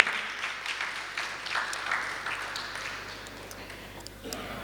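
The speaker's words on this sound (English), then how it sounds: "We absolutely applaud you, and thank you for being here." Audience applause at a job fair and career summit, a moderate, fairly even patter of clapping that tapers slightly toward the end, heard from a short distance in a large room.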